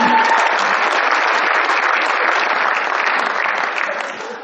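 Audience applause at a sports award ceremony honouring the sportswoman of the year, a dense, steady roar of many hands clapping that holds at full strength and fades slightly near the end.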